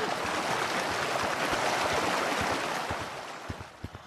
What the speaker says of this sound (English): Oh, the water's so loud!